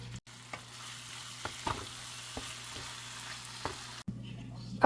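Prawns fry in hot oil in a pan with a steady, close sizzle, punctuated by a few soft stirring scrapes and clicks throughout.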